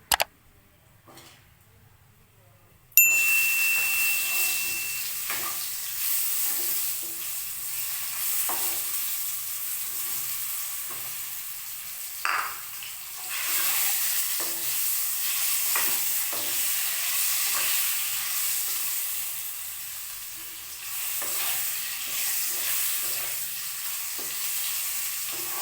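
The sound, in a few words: potatoes frying in pan for chicken curry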